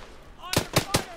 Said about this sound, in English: Plus, we're getting shot at.